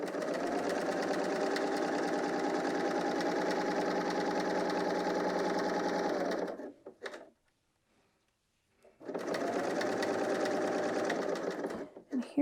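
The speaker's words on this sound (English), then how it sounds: "And start sewing." A BERNINA L 890 sewing machine stitches a knit top, its motor humming steadily for about six seconds, falling silent, then starting up again and running at the same even pace.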